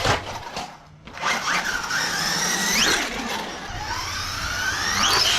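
A small RC car whines and squeals at high revs off a portable jump ramp, motor pitch sweeping up and down through a wheelie and forward flip, close and fairly loud.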